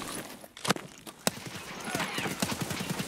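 Gunfire in the video game Escape From Tarkov, down a hallway: a couple of sharp, fairly distant shots crack out, followed by a rapid run of softer clattering bursts.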